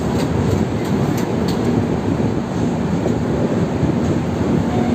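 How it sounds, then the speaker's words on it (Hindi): The Rajdhani Express 20503, departing New Cooch Behar on its Dibrugarh to New Delhi run, rumbles steadily along the rails as heard from inside a carriage, with a continuous loud roar and faint rhythmic wheel clicks. "तो फाइनली हमारी ट्रेन 20503 राजधानी एक्सप्रेस न्यू कूच बिहार से डिपार्ट हो चुकी है 12:58 पर"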